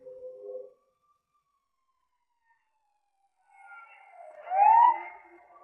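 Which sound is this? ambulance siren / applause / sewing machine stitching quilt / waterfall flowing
ambulance siren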